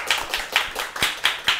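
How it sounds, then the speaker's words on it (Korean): Lecture attendees clap after a talk on writing in the age of AI, but only about six sharp, separate hand claps ring out in an uneven rhythm, close and fairly loud. No voices are heard. "큰 박수 부탁드립니다."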